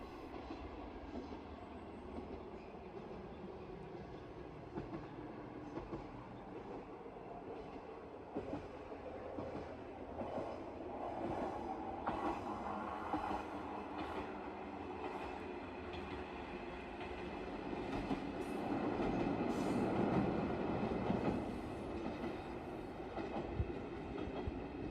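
A Nishikigawa Railway train passes at a distance, a quiet steady rumble with light clickety-clack that swells gradually toward the end of the long pass.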